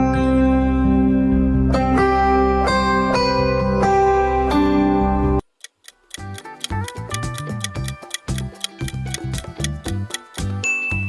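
Samsung phone ringtone, loud and clear with no voices: a warm, sustained chiming melody over a deep bass for the first five seconds, then a short pause and a quicker, plucky rhythmic passage of stacked tones.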